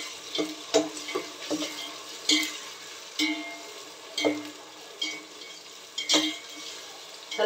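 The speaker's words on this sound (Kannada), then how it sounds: "ಇವಾಗ ಮಸಾಲೆ ಹಾಕಿದ್ಮೇಲೆ ಚೆನ್ನಾಗಿ ಫ್ರೈ ಮಾಡ್ಕೋಬೇಕು" Masala spices frying in a pan for kushka: a light sizzle under a series of spaced, crisp scraping strokes from a stirring spoon, heard up close without any voices.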